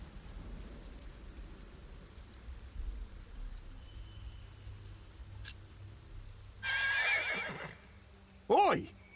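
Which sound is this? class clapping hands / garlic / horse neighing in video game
horse neighing in video game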